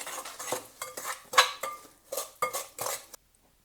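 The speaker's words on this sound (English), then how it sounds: "Mix in the vanilla." A spoon mixes vanilla into cake batter in a bowl, giving a series of close scraping clinks and taps in an irregular rhythm, with no voices, before falling silent.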